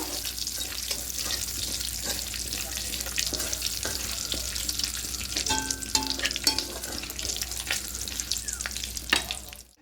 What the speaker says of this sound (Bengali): এবার তেলের মধ্যে ফোড়নে পাঁচ ফোড়ন দেব আর দুটো শুকনো লঙ্কা দেবো ফোড়নটা হালকা করে একটু ভেজে নেব